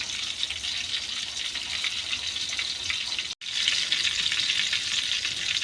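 Chicken longganisa sausage frying in a pan, a continuous bright sizzle and crackle heard close and steady, with one brief dropout partway through and no talk.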